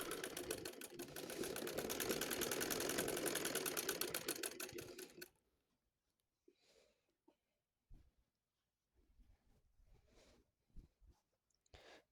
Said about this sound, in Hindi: नीचे की तरफ कपड़ा फोल्ड करते हुए हम इसकी लगा लेंगे सिलाई।